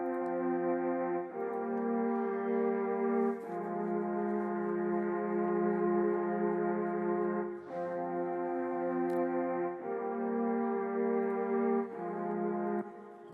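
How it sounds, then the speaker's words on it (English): Solo violin strings in an Amapiano beat play sustained, layered chords that change every couple of seconds, quiet and smooth with no other instruments. "alone the strings sound like this."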